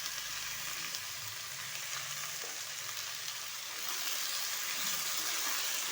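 Potato and egg bhujia sizzles steadily in a pan, a dense continuous frying hiss that swells slightly louder near the end, with faint stirring scrapes and no talk.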